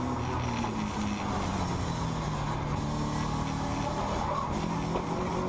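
A Subaru Impreza race car drives hard around Knockhill Racing Circuit, its engine droning loudly and steadily, with rising and falling tones as it gears through the lap, heard close without commentary.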